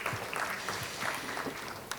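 Faint, distant applause from an audience at a conference session, a thin steady patter of clapping with a few sharper individual claps.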